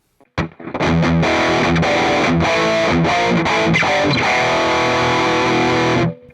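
Electric guitar played through the OD Green overdrive on a Valeton GP-5 multi-effects unit, thick sustained chords ringing out loudly for several seconds before cutting off.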